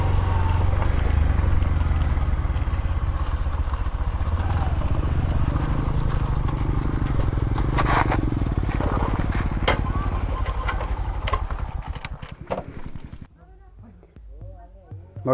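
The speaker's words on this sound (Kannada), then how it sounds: "ಇದೇ ನಮ್ಮದು ಸಿಟಿ 100 ಬೈಕು." A CT 100 motorcycle idles in a hilltop temple parking area, a steady low putter running loud and close for most of the stretch before dropping away near the end, with voices over it.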